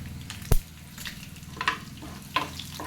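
Crushed garlic and four dried red chillies hit hot tempering oil for sambar, giving a soft frying sizzle with a sharp pop near the start and a few light clinks and crackles after.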